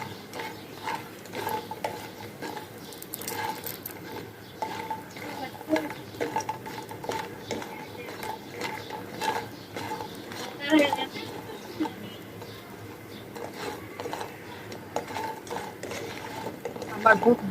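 Lentil dumplings (bori) frying in oil in a pan on low heat, with steady sizzling and repeated scraping and clinking of a spatula against the pan as they are stirred, close and moderately loud throughout.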